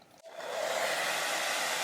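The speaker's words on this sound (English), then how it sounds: "Then we're going to start our hairdryer." A hair dryer on highest heat and lowest blow setting clicks on and rises into a steady, loud whooshing roar that holds without a break, melting crayons.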